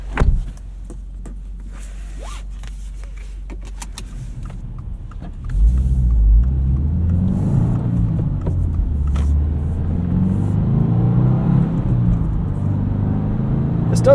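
A 2025 Subaru WRX tS engine rumbles low while driving, settling after a click and then growling louder as it pulls away and rises and falls.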